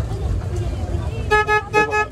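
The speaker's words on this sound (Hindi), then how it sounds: "ऐसा हॉर्न बजता है।" After a stretch of background chatter and road noise at Nandankanan Zoo, a vehicle horn honks three short times nearby.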